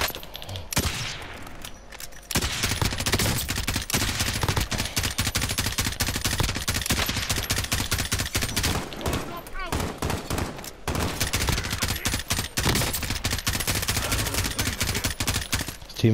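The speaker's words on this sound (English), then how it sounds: "I'm shooting the shit out of him" Rapid bursts of automatic gunfire from a firefight in Call of Duty: Warzone, loud and near, rattling almost continuously for the whole stretch with only brief pauses between volleys.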